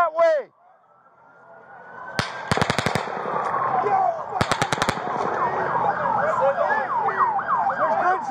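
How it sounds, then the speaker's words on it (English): Rapid bursts of gunfire, a single crack then two quick volleys, over wailing sirens and shouting voices in a chaotic street scene, recorded on a police camera while shots are fired toward the officers. "there's gunshots coming from over there!"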